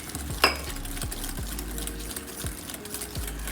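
A steady, busy whir of tiramisu cream being beaten until pale, with a speculoos version of the dessert in progress, continuing evenly for a few seconds with one brief clink near the start.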